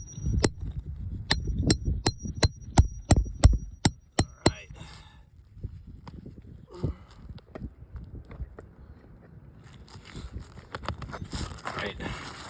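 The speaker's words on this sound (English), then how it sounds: "So carefully gonna lift it. Get my nail puller up in this nail." A nail puller prying a nail out of an asphalt roof shingle during a shingle repair test, with a run of sharp metallic taps and clinks in the first few seconds, then quieter scraping and handling sounds.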